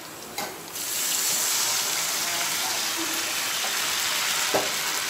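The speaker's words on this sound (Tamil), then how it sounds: "400 ml வந்து தண்ணி விட்டுக்கோங்க." Water poured into a hot pan for cumin vermicelli upma hits with a sudden rush, then settles into a steady, loud hissing sizzle that lasts several seconds.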